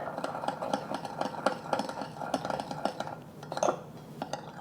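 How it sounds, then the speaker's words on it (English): A spoon stirs a sauce of dark soy and oyster sauce in a bowl, clinking repeatedly against the side in a quick, steady rhythm, close and fairly loud with no talking. "Let us stir."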